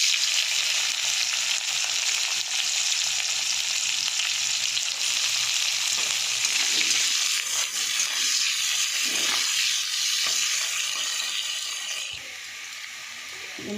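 Onions hit hot oil already seasoned with cumin seeds and fry with a loud, continuous sizzle and hiss, broken by occasional stirring scrapes, easing slightly toward the end.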